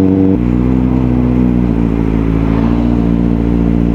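A 2025 Kawasaki Ninja ZX4RR engine runs close by, with a loud, steady multi-cylinder hum and a brief shift in pitch near the start before settling into an even idle.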